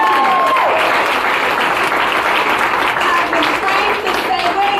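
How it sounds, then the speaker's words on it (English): Loud, sustained audience applause fills a feminist organization's annual event hall, a dense wash of many hands clapping at once with voices and cheers mixed in throughout. "let's clap for that."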